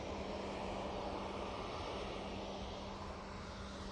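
A Lufthansa Airbus A320neo airliner arriving at Manchester Airport from Frankfurt, heard as a steady, broad engine roar that holds at an even level for about four seconds, with no voices.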